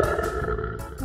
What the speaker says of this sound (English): A lion makes a roar sound.